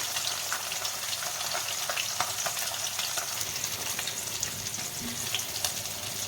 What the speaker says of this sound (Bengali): মাছগুলো আমি একে একে ভেজে নেব এবং এটা খুব ভালো লাল করেই ভাজবো